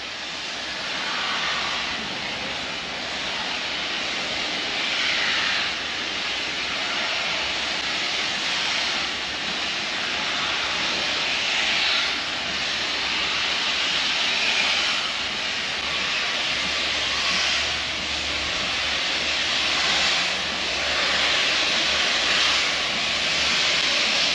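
The Jacobite steam train, the Hogwarts Express, rushes past close by with a loud, steady roar of steam and hissing that stays strong and even throughout, with no voices.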